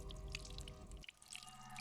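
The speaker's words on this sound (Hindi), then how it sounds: "बाथरूम में पानी भरने की आवाज आ रही है।" Water runs into a tub or bucket in a bathroom, a soft, faint splashing and dripping with a steady low rush that thins out partway through.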